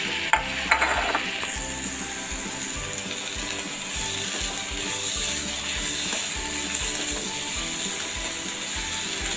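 Grated coconut being stirred into a Kerala vegetable stir-fry (upperi) in a pan, a continuous soft sizzle with repeated scraping strokes of a spoon in a steady rhythm, close and moderately loud, no talk.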